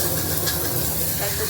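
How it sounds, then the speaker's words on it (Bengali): A pot of rice water boils on the stove, giving off a steady, close, fairly loud hiss of bubbling and steam. "দেখো ভাতের জলটাও ফুটে গেল।"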